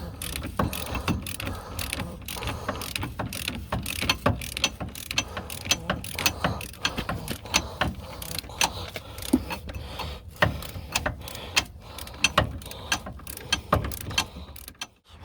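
A tight bolt on a Peugeot 107 front shock absorber being undone with a ratchet, a rapid, continuous run of close mechanical clicks and ticks with irregular louder snaps, lasting throughout with no talk.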